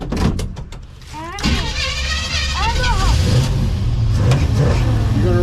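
A Willys 4x4 wagon engine with a fault runs rough and uneven, revving and sputtering up close while a person talks over it. Squeaky, whining noises come through partway.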